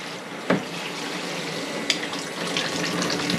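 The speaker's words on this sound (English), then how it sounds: "Then you've got 3 adjustments for your shower." Portable camping shower spraying water on its finer adjustable setting, a steady hiss of spray with a couple of brief knocks, close and continuous without voices.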